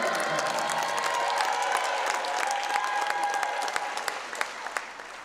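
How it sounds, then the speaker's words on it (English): A crowd at a college volleyball match between Tufts and Williams applauds a player introduction with dense clapping and some cheering, gradually thinning toward the end with a few sharp individual claps. "Ladies and gentlemen, let's have a round of applause."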